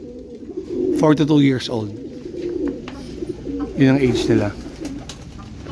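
Pigeons coo in two short bursts, close and fairly loud, with someone talking over them throughout; the birds belong to a bloodline breeder's loft.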